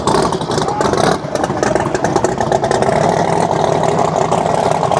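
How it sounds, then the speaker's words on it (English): Loud six-second Rowdy Radials drag racing cars at Rocky Mountain Raceweek roar and rev past at close range, a continuous heavy engine din with rattling clatter throughout. "Another day out here where 6-second cars are driving past you."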